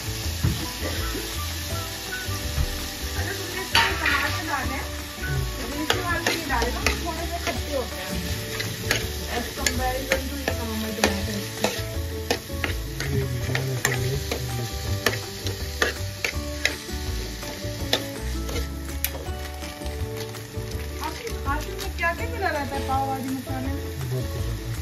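Tomatoes going into a pan of frying pav bhaji, with a steady close sizzle and the scrape of stirring running the whole time under faint background sound.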